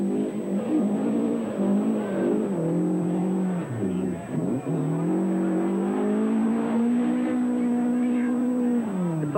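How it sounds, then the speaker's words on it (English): A rally car engine roars through a night forest stage at the 1978 Australian Castrol Rally, rising and falling with gear changes, loud and close with faint voices underneath. "once a year they come to life, fueled by the roar of engines and the cheers of thousands gathered at their favourite vantage point"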